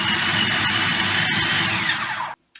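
A food processor whirs loudly at full speed, breaking up breadcrumbs for homemade sausages. It cuts off abruptly, then gives one more very short pulse after a brief silence.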